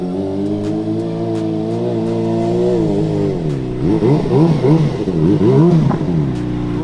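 A motorcycle idles steadily up close, then is revved hard in a quick series of throttle blips over its final few seconds, loud and alone with no voices.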